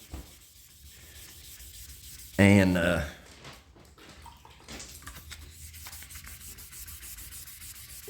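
Wet sanding of a car's paint with 2000-grit sandpaper and water gives a soft, faint rubbing under a short burst of voice, with low hiss and light scuffs following.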